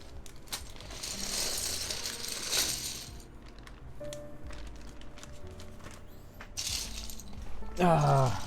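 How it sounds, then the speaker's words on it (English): Plastic keyboard keycaps rattle and clink as a hand rummages through a bag during a TypeMachina x TGR Jane v1.5 build, with a continuous shuffling clatter and a sharper burst near the end. "Finding keycaps from a bag is a little bit more time consuming"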